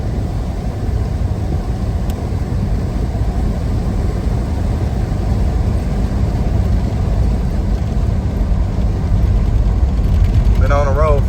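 A 1991 Chevy Caprice engine runs steadily at road speed, a loud, continuous drone with road rumble that holds without a break throughout, no voices heard.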